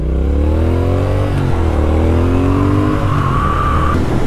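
A 2019 Triumph Speed Twin motorcycle engine revs hard and close, pitch rising through one gear, dropping at a shift, then climbing again under a loud, steady roar.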